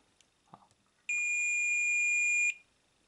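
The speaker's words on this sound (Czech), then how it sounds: "Možná multimetr krátce pípne." A single short electronic beep from a multimeter, steady and high-pitched, lasting about a second and a half after a couple of faint clicks in a quiet room.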